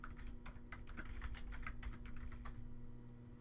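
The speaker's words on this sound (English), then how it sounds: "type your user ID and password in the respective boxes and click enter" Keys clatter on a computer keyboard as a user ID and password are typed, with quick irregular taps that fade near the end over a steady low hum, quiet and close.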